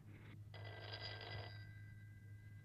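An old telephone bell rings in an Italian period drama, one sustained burst of trilling over a steady low hum, then stops, leaving only the hum.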